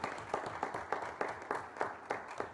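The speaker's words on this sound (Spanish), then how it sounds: "¿Por qué no le damos un aplauso a Andrea?" A small audience at an indigenous leaders' summit claps in a quiet, sparse way, with separate claps spaced out at a steady rhythm, faint and somewhat distant.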